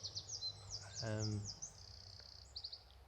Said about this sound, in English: pretty much all you can hear is birds.